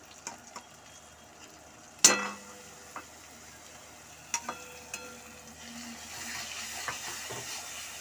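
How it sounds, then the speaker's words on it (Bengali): Onion paste and green chilies frying in a pan, with a faint, steady sizzle, a sharp clatter as the paste goes in, and a few light scrapes and taps over medium heat. "পেঁয়াজ বাটাটা আমি অ্যাড করে দিচ্ছি ভাজতে একটু সময় লাগবে এগুলো"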